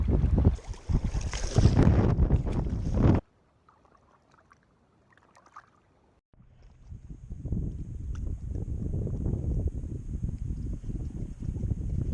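Gusty wind buffets the microphone in loud bursts, drops to near silence, then returns as a steady rushing roar over open water on Table Rock Lake.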